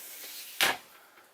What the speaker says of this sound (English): sensible sliding door